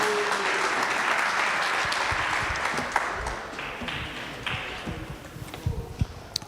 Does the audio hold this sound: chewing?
no